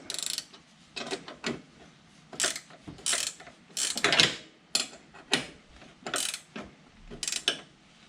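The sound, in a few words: ratchet tightening a nut on a John Deere three-point hitch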